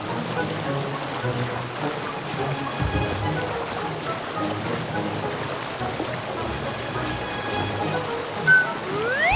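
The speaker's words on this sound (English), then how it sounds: "This a waterfall?" Water rushes and splashes steadily near a leaking dam in an animated farm setting, a continuous hissing wash with faint music-like tones over it.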